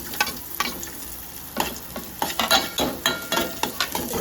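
Chopped tomato and carrot frying in ghee in a pan, stirred with a utensil: a close sizzle punctuated by quick, uneven scraping and clinking strokes that grow more frequent toward the end.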